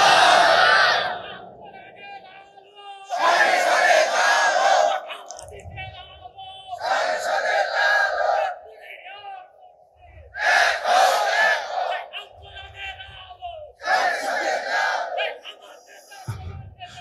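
A large crowd at an open-air religious sermon roars a loud, unified takbir response in repeated bursts, each surge of massed voices rising after a pause, with a lone preacher's amplified voice leading between the chants.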